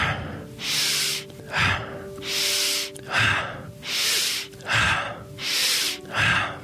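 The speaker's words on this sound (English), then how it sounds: "I am inhaling through the nose." Someone doing a breathing exercise draws four audible inhales through the nose, each about a second long and separated by short pauses, close and clear with no talking.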